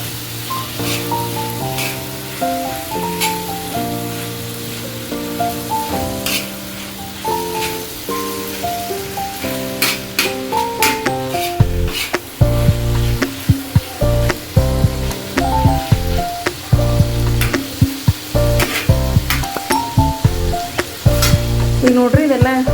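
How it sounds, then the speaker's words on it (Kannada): Okra frying in oil in a pan while being mixed, a continuous loud sizzle with frequent clattering spoon scrapes and taps that grow busier and heavier toward the end. "ಈಗ ನೋಡಿರಿ ಎಲ್ಲ ಮಿಕ್ಸ್ ಆಗಿ ಫ್ರೈ ಆಗ್ಲತ್ತದ."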